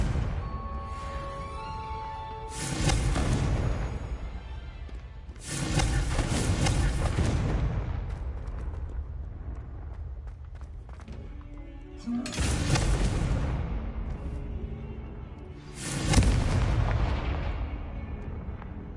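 Confringo blasting spells in Hogwarts Legacy set off four heavy, booming explosions spaced a few seconds apart, each one loud and rumbling before it fades.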